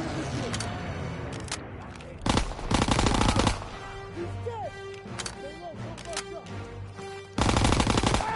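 Gunfire in the Call of Duty WWII campaign mission Stronghold: bursts of automatic fire come in loud clusters, with the loudest blasts near the middle and at the end, over a constant busy battle bed while someone talks.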